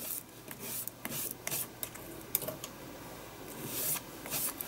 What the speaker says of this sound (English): I'm laying the spatula down and dragging down